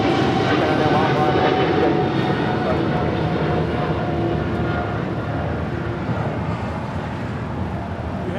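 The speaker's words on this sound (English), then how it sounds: "It's a 777-300ER about to take off here." A Japan Airlines Boeing 777-300ER at LAX, its jet engines producing a loud, steady broadband roar that holds throughout and eases slightly toward the end, with voices talking faintly underneath.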